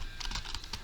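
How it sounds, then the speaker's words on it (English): Rapid clicks on a computer keyboard as a command is typed, a short run of close, crisp keystrokes in an irregular rhythm. "you need to type net stop bits and hit enter"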